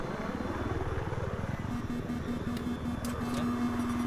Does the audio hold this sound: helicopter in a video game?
yes